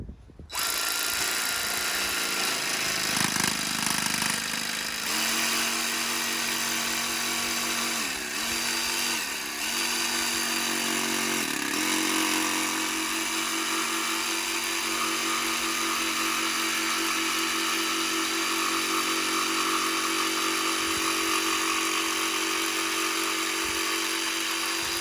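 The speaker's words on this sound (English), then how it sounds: "and then grab yourself a jigsaw" A jigsaw set to fine cut mode runs steadily as it cuts skirting board for a garden room, giving a loud, continuous motor whine with slight pitch shifts as the blade works through the wood, with no talk.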